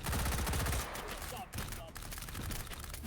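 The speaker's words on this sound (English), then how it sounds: "getting shot to bits" Rapid automatic gunfire bursts from an FFA match in a shooter video game, a dense rattling barrage at the start, then thinner shots continuing at moderate loudness.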